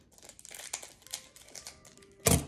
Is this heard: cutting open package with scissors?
yes